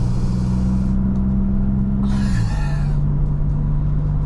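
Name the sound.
Maserati MC20 Cielo engine during a spirited drive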